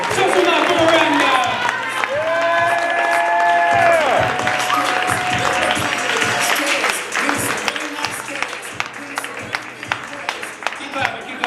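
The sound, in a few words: audience clapping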